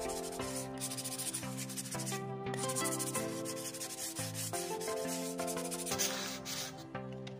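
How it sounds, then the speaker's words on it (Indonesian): Steady rubbing and scraping of sandpaper on a plywood board, continuous back-and-forth strokes, close and moderately loud with no talking. "kalian juga bisa amplas dulu agar permukaannya lebih bersih atau lebih halus"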